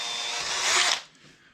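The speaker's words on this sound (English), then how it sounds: "I'm going to drill those holes." A power drill whines steadily at close range for about a second, rising in pitch as it bites through HDPE plastic of a kayak seat, then cuts off abruptly.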